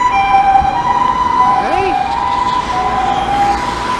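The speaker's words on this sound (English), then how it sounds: "This is the 3rd ambulance today." Ambulance siren in Japan wailing steadily through the whole stretch, with a brief sweeping tone midway over road traffic; a short spoken word cuts in.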